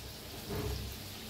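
Karanji pastries filled with jaggery and peanuts frying in oil for Diwali, a soft steady crackling sizzle with a brief fuller swell, quiet, no talking.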